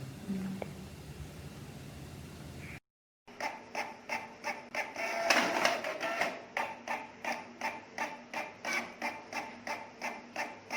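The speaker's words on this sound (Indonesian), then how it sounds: "dengan satu printer Canon ini saya bisa mencetak sampai 2000 lembar" A Canon printer printing invitations runs with a steady train of rhythmic mechanical clicks and feed pulses about every half second, close and moderately loud, after a stretch of faint room noise and a short silent break.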